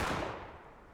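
A single cannon shot booms at a Civil War reenactment battle between Union and Confederate lines, loud and fairly close, its sharp blast decaying into a rolling rumble over about a second.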